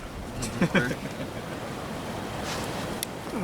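Gusty wind rumbles and buffets against the microphone in a steady low roar, with a couple of faint voices briefly audible.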